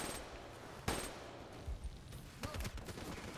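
Assault rifle fire from Call of Duty: Black Ops 3, a few scattered gunshot bursts with one sharp louder shot early, then rapid clustered shots later, set against steady game background noise.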